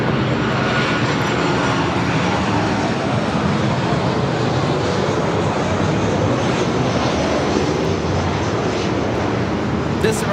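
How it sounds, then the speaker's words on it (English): A United Airlines Boeing 737-800 arriving at LAX from Seattle, a loud continuous jet engine roar that holds steady throughout, with no voices heard. "This arrival is United Airlines 2397 coming in from Seattle on a 737-800"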